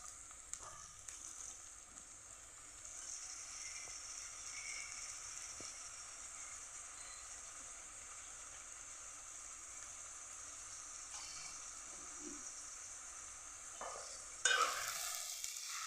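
Onions added and stirred into a dried prawn and egg curry in a pan, a faint, steady sizzle with occasional quiet stirring scrapes and a sharper clatter near the end, no talking.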